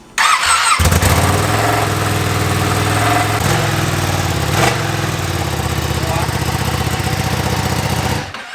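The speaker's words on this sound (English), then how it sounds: "should we listen to this exhaust standard?" A Ducati Streetfighter V2 motorcycle with its stock exhaust kicks into life and settles into a steady, loud idle, rumbling continuously for several seconds before cutting off.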